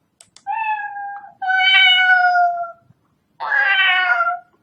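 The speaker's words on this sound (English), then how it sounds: "Oh yes, there's a sound meow." The Scratch cat meow sound effect plays three times, clear and loud, as separate drawn-out meows with short silences between them.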